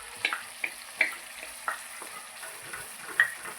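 A tomato-onion paste being stirred into hot spiced oil in a pan, with a soft steady sizzle and a handful of sharp spoon scrapes and taps spaced through the clip, close and alone.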